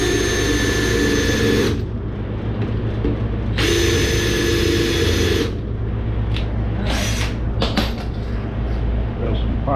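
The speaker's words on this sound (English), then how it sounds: "we're going to drill it out" A power drill with a 3/8 bit bores out bolt holes on a 1969 Chevy C10, whining loudly in two long bursts with grinding noise and short pauses between.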